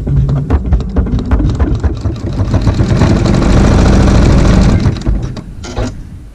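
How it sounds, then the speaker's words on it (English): An embroidery machine sews a satin stitch around a pink applique, a loud, fast, rhythmic mechanical chatter that runs steadily and then slows to a stop. "we're going to sew satin stitch around the pink applique"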